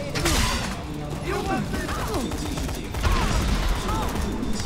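Dual automatic Desert Eagle handguns fire in rapid bursts during a Dead Rising 3 boss fight, a dense clatter of shots layered with game effects and continuous talk throughout.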